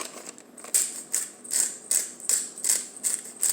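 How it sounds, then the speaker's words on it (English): Pepper grinder cracking peppercorns for a pork-skin chicharrones dish, a run of about seven quick, crisp ratcheting grinds in steady rhythm, close and fairly loud with no talking. "We'll add our pepper. I'm not going to coarse grind."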